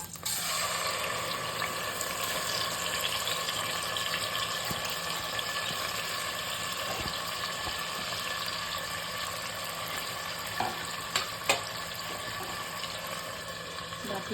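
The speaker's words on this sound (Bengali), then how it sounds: "বাটি মেপে জলটা দিচ্ছি" Water poured from a measuring bowl into gobindobhog rice with bay leaf, sugar, salt and turmeric in a pot, a steady close splashing pour that runs unbroken for the whole stretch with a few small knocks near the end.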